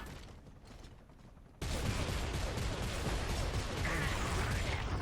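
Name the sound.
machine gun fire in video game Gears of War 2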